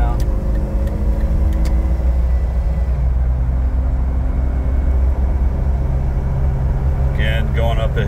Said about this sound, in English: Alright, let's give it a little gas now.